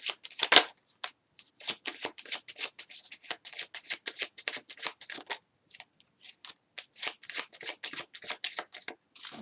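Tarot cards being shuffled by hand, a rapid run of crisp riffling flicks close up with a brief pause partway through before the shuffling resumes.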